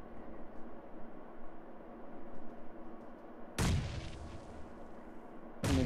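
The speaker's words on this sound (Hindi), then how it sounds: "ग्रेनेड कहाँ फेंक रहे हैं ये लोग?" Grenade explosions in a video game: a steady low rumble of distant battle, then a sudden loud blast near the end followed by another at the very end, no talk.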